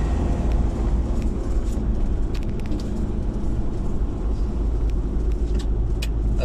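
A car engine labours steadily up a steep bypass road in Calauag, Quezon, held in low gear at slow speed, a continuous loud rumbling drone with no talk over it.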